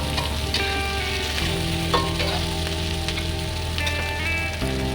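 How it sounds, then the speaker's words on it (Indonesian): Fried tofu is stir-fried in a pan of wilted greens for a spicy-sweet dish, giving a steady close sizzle with scraping stirring strokes throughout. "kita masukkan tahu yang sudah kita goreng tadi. Kita aduk sampai merata."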